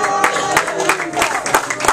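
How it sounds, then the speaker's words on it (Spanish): A church congregation applauds during a Spanish-language worship service, with dense clapping, some sharper rhythmic claps, and voices mixed in. "Denle un fuerte aplauso al Padre, al Hijo y al Espíritu Santo"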